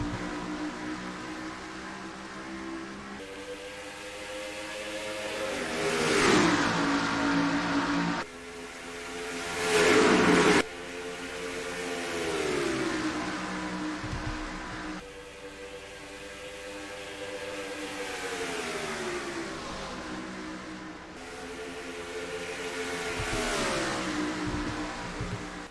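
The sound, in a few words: race car engines at green flag, NASCAR Racing 2003 video game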